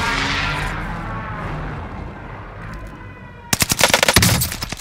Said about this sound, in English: There's like no recoil to that gun.